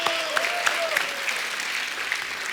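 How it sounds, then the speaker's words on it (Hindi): Loud audience applause and cheering for Malayalam superstar Mammootty at a Hindi talk-show taping, a steady dense wash of clapping with a few whoops and a whistle-like tone riding over it. "उनके लिए जोरदार तालियां एक बार।"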